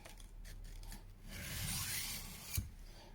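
A Morakniv Hunter 1701 knife blade rasps against a coarse sharpening stone with light pressure, giving soft, close scraping strokes that swell and fade, ending with a small clack.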